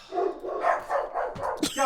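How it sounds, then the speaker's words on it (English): Several dogs bark repeatedly in quick succession, loud and close, with a couple of yips at the end. "I'm sorry. I gotta yell at the dogs."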